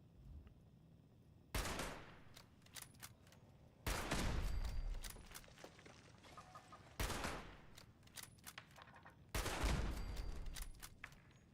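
Video game gunfire in Fallout 76: four loud bursts of rapid automatic shots, each lasting a second or two, separated by quieter stretches with scattered game sounds.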